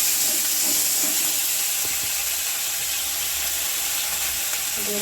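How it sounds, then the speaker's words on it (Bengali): Potatoes fry in hot oil with whole cumin, garam masala and bay leaf, giving a loud, steady sizzling hiss that runs evenly from start to finish, with faint stirring scrapes underneath. "হালকা লবণ দিয়ে আলুটা ভেজে নিচ্ছি এবার গোটা জিরে আর গোটা গরম মশলা তেজপাতা দিয়ে দিলাম"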